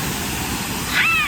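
Steady rain falls at night around 1:30 a.m. on a trip toward Munnar, a continuous close hiss, with a brief high squealing tone near the end.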